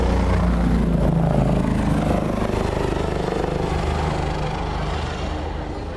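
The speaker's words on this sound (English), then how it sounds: "here comes our helicopter" A medical flight helicopter passes low over a small-town Pioneer Days parade, its loud, pulsing rotor thump and engine roar dominating the air, then fading slightly as it moves away.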